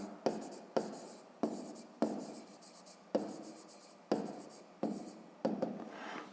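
Handwriting with a pen during a Ukrainian fifth-grade maths exercise, a series of short scratchy strokes in bursts with quiet pauses between, close and alone without talk.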